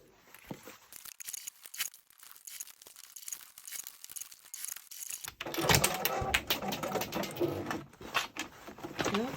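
Sewing machine stitching a 3/8 inch seam on a clipped garment, starting with soft fabric handling and faint clicks, then running steadily and loudly in a dense mechanical whir for the last few seconds.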